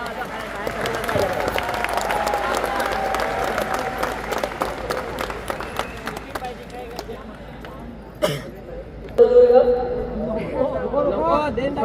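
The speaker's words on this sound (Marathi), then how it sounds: "तुम्हाला प्रोत्साहन देण्यासाठी काही कार्यकर्ते टाळ्या वाजवत आहेत" An audience claps at a tribal dance competition in Palghar, with scattered, uneven applause mixed with crowd chatter and a speaker's voice over it, and a louder burst toward the end.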